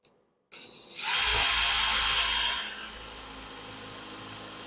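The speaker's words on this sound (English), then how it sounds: "Then I took my countersinking bit, put it in reverse, which makes a nice smooth cut." A power drill with a countersinking bit, running in reverse, whirs up quickly against wood for a loft bed build, a close, loud burst of about two seconds that then winds down.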